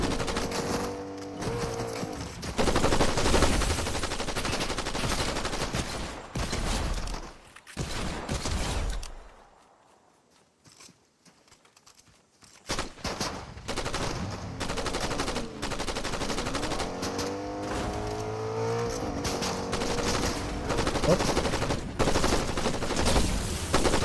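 Loud, sustained gunfire in a cowboy-themed video game: dense bursts of rapid shots and volleys that fill most of the stretch, broken by a short quiet gap before the shooting resumes.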